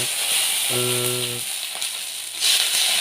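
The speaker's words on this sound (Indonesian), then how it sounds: "Kita goreng telurnya sampai matang sesuai selera." Eggs fry in hot oil in a pan, giving a steady close sizzling hiss with a brief tonal hum partway through.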